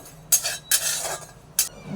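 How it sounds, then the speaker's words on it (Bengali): Spices lightly dry-fried in a pan are stirred with a utensil, giving a few short scraping and clinking strokes against the pan over a faint background. "একদম হালকা ফ্রাই করবো যেন একটু মচমচা হলে এটাকে গুঁড়ো করা যায়"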